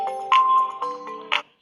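A phone alarm rings out as a short, bright electronic melody of ringing tones with a couple of sharper chime bursts, loud and near, heard alone.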